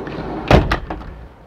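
A bedroom closet door in a 2004 Winnebago Adventurer RV being handled: a sharp knock followed by two quicker, lighter clacks, close and loud in a quiet interior.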